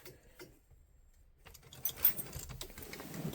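Keys jangling as they are pulled from a 2016 Champion Ford E450, a quiet start followed by light clinking and metallic rattles that grow busier.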